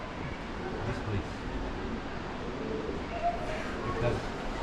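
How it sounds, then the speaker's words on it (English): Pigeons cooing beside a river at Blagaj near Mostar, soft repeated coos sitting low under steady outdoor background noise and passing talk. "Plenty of pigeons."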